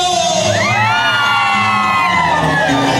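A crowd of women at a wedding shouts and cheers loudly all at once, a sustained roar of high-pitched whoops and yells that fills the whole clip.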